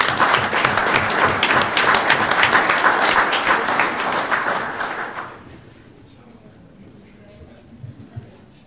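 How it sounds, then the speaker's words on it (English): A city council meeting audience in Kaysville applauds contest winners, a full, dense round of clapping that holds steady for about five seconds before fading into quiet room tone with a few scattered late claps. "Give another round of applause."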